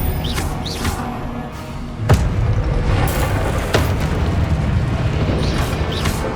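Explosive spell blasts from the Hogwarts Legacy game on PS5: a few sharp booming bursts, with a loud one near the start and another a little later, set against a dense, continuous rumble of combat effects with no speech.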